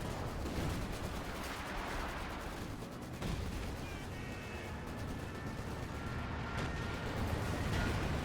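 A leFH howitzer firing in Company of Heroes 2 during a large 4v4 battle, with continuous dense rumbling of artillery and gunfire, a thick wash of explosions throughout and no clear separate shots.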